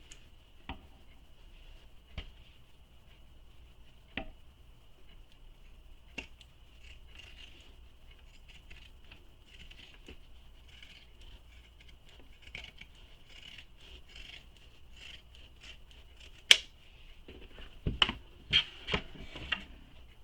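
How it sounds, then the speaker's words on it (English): Pinking shears trim the bottom seam of a fabric crossbody bag. Faint scattered ticks lead to a few louder, crisp snips near the end, with no talking. "you can use pinking shears to trim that bottom seam"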